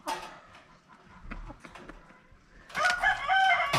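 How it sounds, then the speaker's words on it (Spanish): An old rooster crows once, loud and close, in a long hoarse call at the end, with quieter clucks and soft farmyard noise before it. "Aquí tengo el gallino más viejito."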